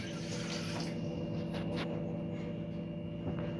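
A glass of water poured into a cooking pot to start a sugar syrup: a steady, continuous splashing pour that runs the whole time, close and fairly loud, with no talking.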